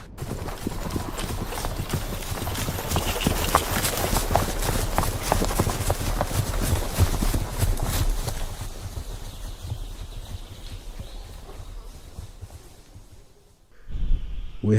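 Horse hooves clip-clopping as a sound effect: a rapid, continuous run of close hoof clops over a rough rumble, fading off toward the end before a brief louder burst.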